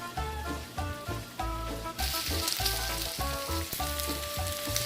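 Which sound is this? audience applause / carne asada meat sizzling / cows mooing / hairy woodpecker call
carne asada meat sizzling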